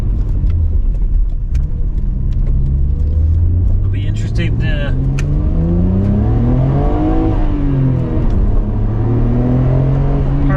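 A 1996 Nissan Skyline GT-R LM V-Spec engine pulls hard, its loud revving climbing in pitch through the gears with a brief dip at a shift, heard close from inside the car while someone talks over it.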